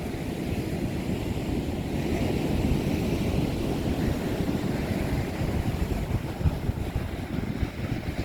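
Waves wash up and back over a sandy beach in steady, continuous surf, close and loud, with wind buffeting the microphone throughout.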